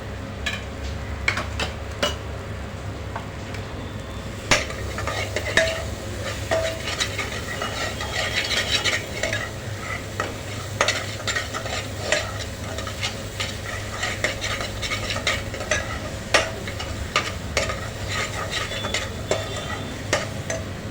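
Masala stir-fried in a pan for chavali batata bhaji, a wedding-caterer-style black-eyed pea and potato dish: a steady oily sizzle with frequent scraping and clinking of the spoon against the pan, no voices.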